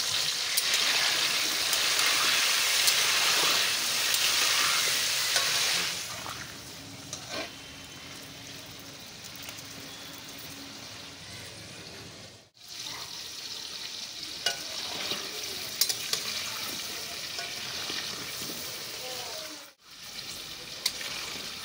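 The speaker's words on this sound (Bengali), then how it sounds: "বেরেস্তা ভাজার ওই তেলেই আমি একে একে আলুগুলো ভেজে নেব" Potatoes for mutton biryani fry one by one in oil left from frying onions, giving a dense, close sizzle that is loudest at first and then settles quieter, with two brief breaks.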